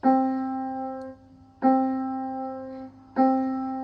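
A small piano's middle C struck three times at an even, unhurried pace, each ringing clearly and decaying before the next, close and moderately loud.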